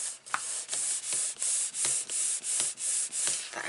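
Paper is rubbed firmly along a score line while a notebook cover is being made, about ten rhythmic hissing strokes close to the mic, alone.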